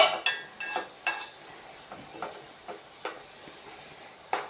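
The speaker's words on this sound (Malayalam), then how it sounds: "അടപ്പൊന്ന് മാറ്റിയിട്ട് ഇളക്കി കൊടുക്കാം" Beetroot thoran cooks in a pan while a spoon stirs it, giving a run of sharp scraping clinks against the metal over a quiet low sizzle, spaced irregularly and heard close.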